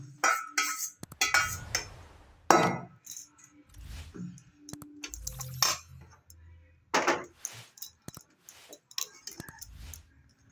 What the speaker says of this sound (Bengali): ডিম ভাজাটা আমার হয়ে গেছে, এবার আমি চাউমিনের সাথে মিশিয়ে নেব।